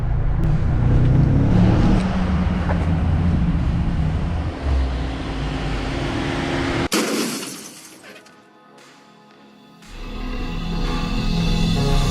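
A BMW M5 fitted with an Eventuri intake revs loud and close for several seconds, its engine roar broken by a sharp crack and hissing blow-off before dropping quieter, then building again.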